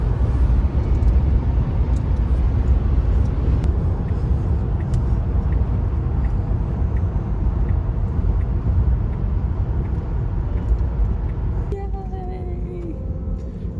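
A Tesla car cruises along a French road, a steady low rumble of tyre and road noise filling the cabin for the whole stretch, easing slightly near the end.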